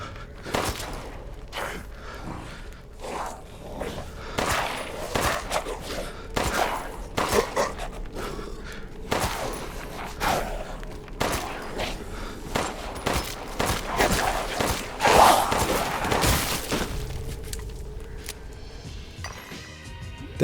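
Gunfire from the video game Resident Evil Village, a steady run of sharp, close shots with metallic clinks scattered over about twenty seconds, with no talking.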